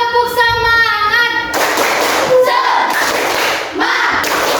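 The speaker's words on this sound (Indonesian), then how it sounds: "Kita tepuk semangat dulu ya, berdiri semua." A group of elementary schoolchildren standing in a classroom beat out a rhythmic spirit clap together, loud, dense bursts of many hands following a brief tonal sound at the start.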